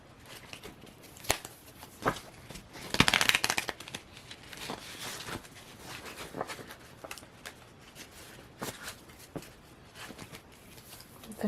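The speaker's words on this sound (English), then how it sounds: "Finish getting these cards a shuffle" Tarot cards are shuffled repeatedly, with papery riffles and soft slaps coming in uneven bursts, one louder flurry near the start, close up.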